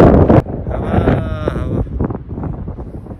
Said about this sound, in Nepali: हावा चल्दैछ, के बोलेको पनि केही सुनिँदैन होला